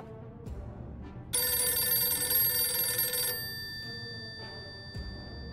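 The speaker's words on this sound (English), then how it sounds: "Is that a phone?" A telephone rings in a video game set in a post-apocalyptic survival scenario, a loud electronic bell ring lasting about two seconds over quieter background game sounds with a few soft knocks.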